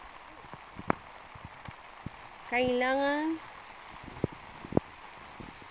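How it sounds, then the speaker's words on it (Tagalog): Steady rain falls outdoors in a rural province setting, an even hiss with scattered drip-like taps. A voice speaks or calls out briefly partway through. "Pero umuulan talaga."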